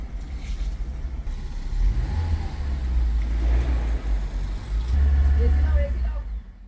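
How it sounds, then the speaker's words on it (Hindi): A Hyundai Grand i10 Nios engine runs just after being switched on, a low steady idle rumble heard close under a man's speech. "व्हीकल को स्विच ऑन करके इंजन का वाइब्रेशन नोट डाउन कर लीजिए।"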